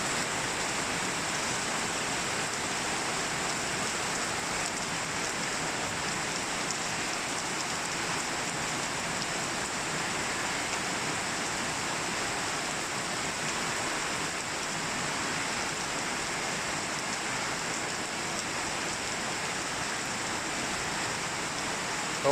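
Heavy storm rain pours steadily and evenly for the whole stretch, a dense, continuous hiss of drops with no voices or breaks.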